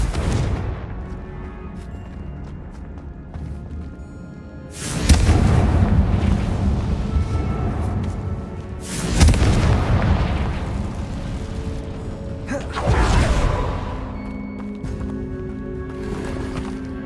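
Spell explosions from Confringo and Bombarda cast in the Hogwarts Legacy video game, three loud booming blasts spaced a few seconds apart, each with a rumbling decay over a low background.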